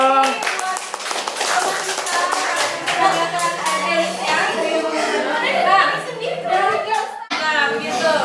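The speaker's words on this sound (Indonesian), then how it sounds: "silakan kembali dulu ke Tepuk tangan dulu dong" Classroom students clap their hands together in a lively burst, with children's voices and chatter mixed through the clapping before it stops abruptly.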